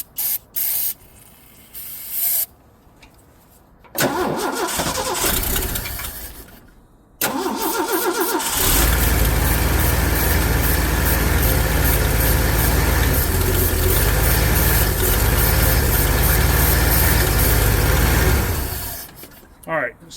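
Carburetor cleaner sprays in short hisses on a 40-year-old Ford, then the engine cranks, catches and runs loud and steady for about ten seconds before cutting off.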